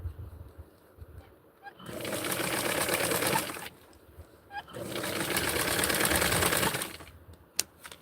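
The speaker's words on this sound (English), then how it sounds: "I'm overdoing it there with the thread, with the sewing back and forth" A sewing machine runs in two long bursts several seconds each, stitching a small doll shirt back and forth, with quiet handling noise in the pauses.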